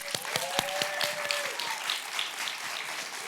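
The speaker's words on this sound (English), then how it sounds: "let's give them all one more round of applause" Applause from a conference audience at an opening plenary, a dense wash of clapping at moderate distance, with a few sharper individual claps near the start.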